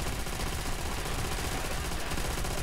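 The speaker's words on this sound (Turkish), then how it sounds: "Abi ben de sana sıkıyorum" Continuous dense automatic gunfire in the World War II shooter Call of Duty: World at War, set in the city of Seelow, a steady loud rattle filling the whole moment without speech.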